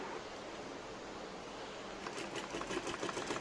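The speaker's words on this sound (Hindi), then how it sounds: "अब देखिए आपने इस तरह से सीधी सिलाई लगानी है, इस तरह से आपकी ये बेल्ट बन जाएगी।" A sewing machine runs a straight line of stitching along a folded fabric saree belt, starting as a steady hum and then breaking into a quicker rattling stitch rhythm in the last second, close and fairly quiet.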